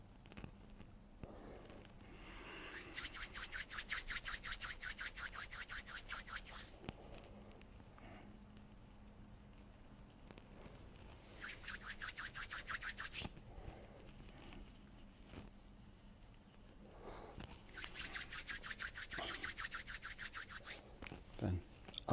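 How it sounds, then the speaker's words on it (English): Hands rubbing briskly together, then massaging over the kidneys in a Qi Gong exercise: rhythmic, rapid bursts of friction come in several waves, soft and close, with a low murmur underneath. "Rub the hands, massage the kidneys."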